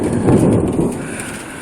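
Very close, loud thunder from a spring thunderstorm in Michigan, a heavy rumbling crash that dominates the first second before easing into a sustained roll with rain hiss underneath.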